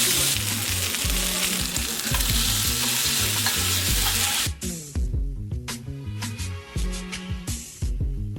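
Pasta is tossed in melted butter in a hot pan, hissing with a loud, dense sizzle and clattering stirs, then settling into a softer sizzle broken by rhythmic scraping and tossing.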